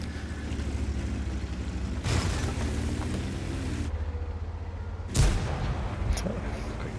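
Game tank cannon fire in World of Tanks, a German heavy tank at Tier 6, heard as a couple of booming shots over a constant low engine rumble, moderately loud.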